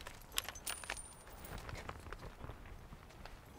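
Keys jangle and clink in short bursts close by, faint and scattered, during the handover of a used Chevrolet car.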